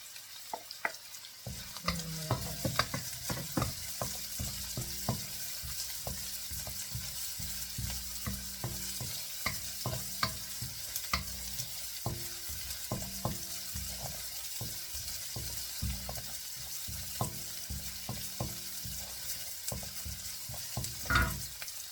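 Garlic and onion fry in a pan for adobong sitaw, with a continuous sizzle broken by frequent scraping and stirring knocks of a utensil against the pan, close and fairly even throughout.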